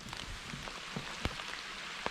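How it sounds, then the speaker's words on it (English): Steady rain falling outdoors on a hiking trail, a soft continuous patter with scattered louder drops tapping nearby surfaces, fairly quiet overall. "It's raining pretty steady"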